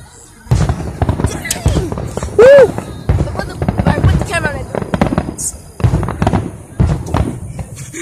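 Fourth of July fireworks burst in repeated sharp booms and crackles, mixed with people talking and music playing throughout.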